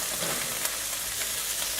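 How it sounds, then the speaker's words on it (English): Tofu pieces frying in hot oil in a pan, a dense continuous sizzle heard up close with no talking. "All of our tofu in. Fry it up nice and crispy."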